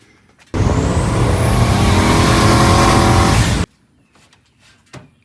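A turbocharged Ram truck with long-tube headers and a rear-mount turbo roars loudly for about three seconds as boost builds, engine howl with a rising turbo whine on top, then cuts off abruptly to quiet.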